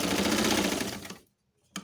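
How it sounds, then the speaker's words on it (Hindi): A sewing machine stitches a cushion cover in a steady, loud rapid whir for over a second, then stops abruptly, leaving quiet before a brief clack at the end. "सबसे पहले मैं उस पर सिलाई कर रही हूँ।"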